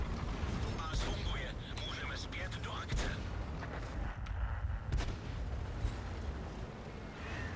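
Booming artillery fire and shell impacts around a KV-5 heavy tank in World of Tanks, a steady loud rumble broken by repeated sharp blasts, with someone talking over the battle.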